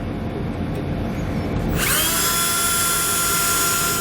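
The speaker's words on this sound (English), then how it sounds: "I'm going to use that small drill bit to make me a pilot hole" A small power drill with a small bit starts up partway through and runs steadily at high speed, a loud whine boring a pilot hole for self-tapping screws close by.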